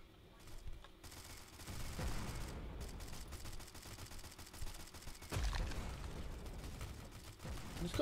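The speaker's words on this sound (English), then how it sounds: "Who's got the shotgun that's killing me?" Shotgun blasts and other gunfire rattle through a chaotic multiplayer match of the shooter game Hitmen Havoc, with repeated bursts of shots layered over a busy, continuous game soundscape.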